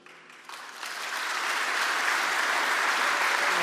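Audience applause at a ceremony where Portugal's president designates Luís Montenegro as prime minister for a second term, starting sparse and quickly swelling into a steady, full-room ovation.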